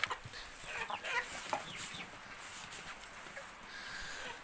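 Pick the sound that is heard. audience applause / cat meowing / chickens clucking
chickens clucking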